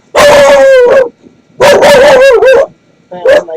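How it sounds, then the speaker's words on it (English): Several dogs barking and yipping close by in two loud bursts, with a shorter third burst trailing after a pause; no talk over them. "Apparently my dogs are going to go off and be silly."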